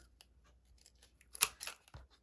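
Scissors snip paper corners round on a handmade paper purse craft, giving a few quiet, short crisp cuts, with one sharper snip standing out before a low thud.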